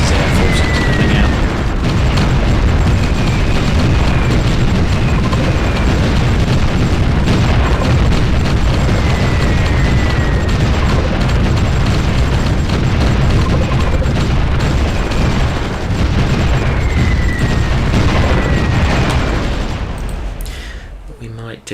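Bombing runs in the strategy game Supreme Ruler Ultimate produce a long run of dull, booming explosions and bursts, rolling one after another at moderate loudness before fading out near the end.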